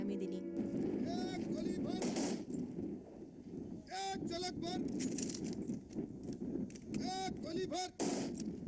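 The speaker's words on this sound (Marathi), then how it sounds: "जवानांनी आपल्याला मागे टाकून एकट्याच पुढे निघून गेलेल्या अण्णांना बंदुकीच्या फैरी झाडून सलामी दिली।" Rifle volley fired as a gun salute at a para commando's state funeral, sharp reports heard under ongoing speech and crowd noise, several cracks spread through the clip.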